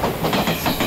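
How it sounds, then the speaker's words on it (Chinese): A train running along railway tracks, with a steady rumble and repeated clickety-clack wheel beats rolling past at close range, loud and continuous with no talk. "火车行驶平稳又安全"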